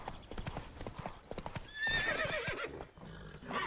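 Roach, a horse in The Witcher video game, gallops with rapid clip-clopping hoofbeats and then lets out a loud whinny partway through, close and prominent with faint talking underneath.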